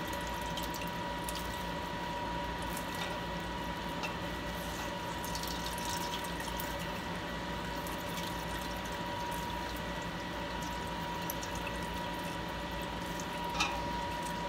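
Whey draining from farmers cheese squeezed in cloth, a steady faint trickle and drip of liquid, with no talk.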